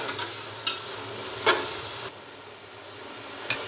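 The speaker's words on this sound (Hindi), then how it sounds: "और इसको मज़ीद 2 से 3 मिनट के लिए अदरक और लहसुन के पेस्ट के साथ फ्राई कर लेंगे" Chicken frying in a pan with ginger and garlic paste, a soft steady sizzle broken by a few sharp stirring scrapes.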